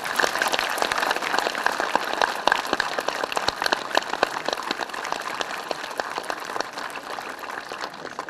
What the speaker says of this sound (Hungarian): Most kérem a tapsot nekik.